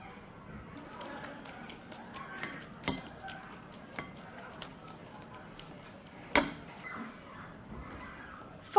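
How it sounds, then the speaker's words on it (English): A whisk beats egg and milk into flour batter in a bowl, making faint, quick clicking taps with a few louder knocks against the bowl in a quiet room. "Whisk in the egg and milk to make a smooth batter."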